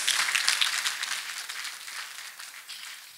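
A church congregation claps for Master Jesus after a faith testimony, a hissy, fairly distant patter of many hands that slowly fades a little over the few seconds.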